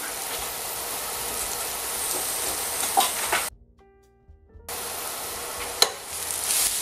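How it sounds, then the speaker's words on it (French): Onions fry in a pan with a steady close sizzle and occasional stirring scrapes, cut by a brief moment of near silence before the frying resumes; no talking. "Je vais griller un peu les oignons."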